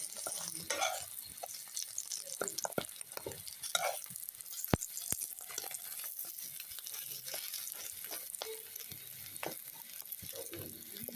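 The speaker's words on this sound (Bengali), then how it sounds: "একটা সিম এভাবে ভেজে নিব।" Flat shim beans frying in oil in a pan, a faint, soft sizzle broken by scraping stirs and light crackles throughout, with no voices.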